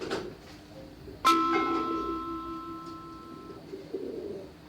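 A white pigeon on a balcony coos softly after a sudden sharp knock, with a ringing tone lingering underneath before fading.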